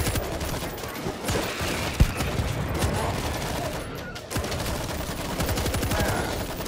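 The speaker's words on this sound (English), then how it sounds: "Stationary machine gun in position." A stationary machine gun firing in the zombie shooter World War Z, with a steady, loud stream of rapid automatic shots and one sharp, heavier crack early on.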